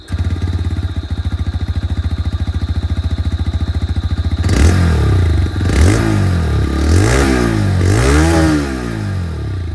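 A 2025 TVS Raider 125 ABS motorcycle exhaust putters steadily at idle, then the engine is revved several times, each rev climbing and dropping back, loud and close.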